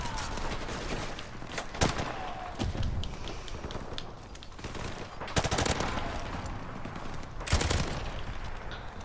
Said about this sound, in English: It's a suppress pistol, so I mean.